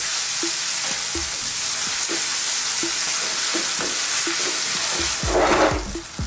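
Curry base for minced beef keema stirred and fried on high heat, a constant loud sizzle with regular light spatula taps against the pan, ending in a heavier scraping stir.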